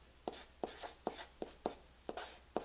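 A pencil scratches across paper while a calculus problem is worked out, making about eight short taps and strokes in an irregular rhythm, close and quiet, with no talking.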